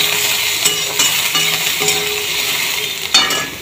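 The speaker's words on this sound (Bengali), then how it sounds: "তো একটু জাস্ট হালকা করে ভেজে নেব" Soybean chunks fry lightly in hot oil in a pan, giving a steady close sizzle with occasional scraping stirs and faint clinks of a utensil.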